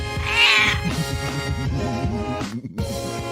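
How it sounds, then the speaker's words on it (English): A cat meows loudly and close, one long drawn-out call followed by several shorter, wavering meows, heard alone with no talking. "My cat."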